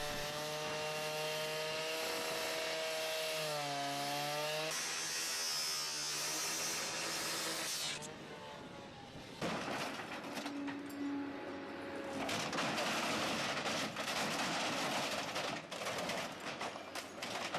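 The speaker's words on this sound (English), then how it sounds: "the shear is used to break apart the aluminum structure along key joints" Demolition shear tearing through the aluminum fuselage of a Boeing airliner at a teardown site, giving a continuous loud grinding, squealing and screeching of stressed metal with shifting pitched tones, heavy machinery droning throughout and no voices.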